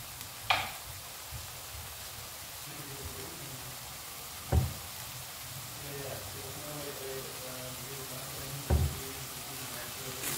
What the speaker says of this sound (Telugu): లో లో గాని మీడియం ఫ్లేమ్ లో గాని పెట్టుకొని మాత్రమే మన టమాటా పేస్ట్ ని ఫ్రై చేసుకోవాలి మనం